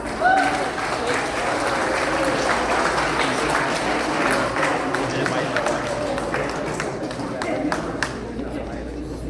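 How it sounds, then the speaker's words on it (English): A room gives a warm round of applause at a municipal election campaign launch in Scarborough's Rouge Park ward. Dense, even clapping from a sizeable crowd holds for several seconds, with a little chatter mixed in before it begins to taper. "Please give him a warm round of applause."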